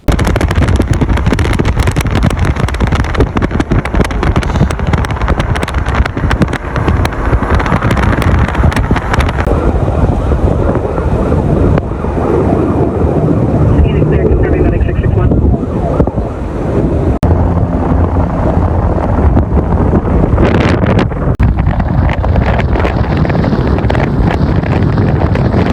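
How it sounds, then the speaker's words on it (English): Strong Santa Ana winds with gusts up to 60 mph during the Hughes Fire near Castaic Lake, California: a loud, continuous roar of wind buffeting the microphone throughout, with no clear breaks. "Firefighters are contending with strong Santa Ana winds"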